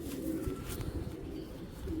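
A male Giribaz pigeon with feathered feet coos in low, continuous rolling murmurs, close and steady over a background of faint rustling.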